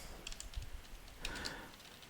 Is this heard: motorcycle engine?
no